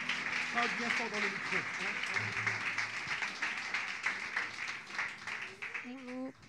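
Church congregation at a baptism evening applauding a young woman, steady clapping from a crowd at moderate distance with a voice speaking over it.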